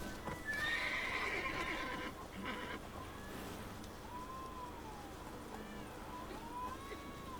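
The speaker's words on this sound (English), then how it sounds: "Whoa there, Roach. Not so fast, Roach" In The Witcher 3: Wild Hunt, a horse whinnies loudly at the start, then its hooves clip-clop in a steady rhythm under faint game ambience.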